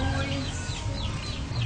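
Chickens clucking at a farm enclosure that also holds guinea fowl and ostriches, a steady cluster of nearby clucks and chirps lasting under two seconds, with no talk.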